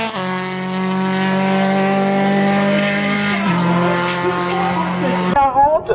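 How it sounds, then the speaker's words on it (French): Race car at a hill climb in Gavray in 2016, engine roaring loud and steady with a drop in pitch as it brakes, then cutting away near the end; commentators talk over it. "Le voilà, Romain Laville au freinage"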